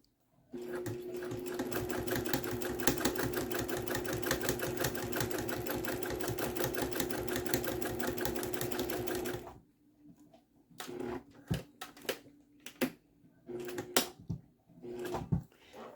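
A sewing machine stitches fabric for a doll diaper and bib set, making a rapid steady chatter for about nine seconds before stopping, followed by scattered clicks and handling noises.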